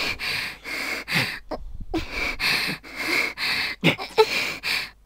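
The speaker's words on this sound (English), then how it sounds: "I don't need to hear them breathing." Characters in the Corpse Party video game breathing heavily, a series of close, loud wheezing inhales and exhales with gasps and sniffs in uneven bursts separated by short pauses.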